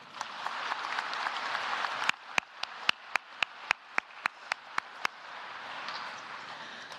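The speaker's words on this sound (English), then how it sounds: "They deserve another round of applause." At a high school graduation, a crowd applauds steadily, the clapping faint and distant, then a run of about a dozen sharp, evenly spaced claps before the applause swells again.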